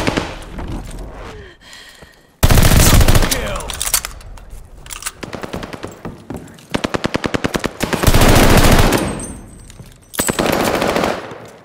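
Automatic gunfire at the hard point in Call of Duty Vanguard, loud rapid machine-gun bursts and dense volleys alternating with brief lulls, under game announcer speech.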